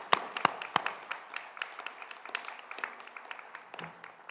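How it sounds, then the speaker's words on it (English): Sparse, quiet clapping comes from a small audience at a 2021 dental program pinning ceremony, with a few sharper individual claps near the start and then softer scattered claps. "So one more round of applause,"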